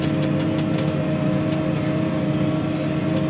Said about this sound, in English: You can hear the engine now.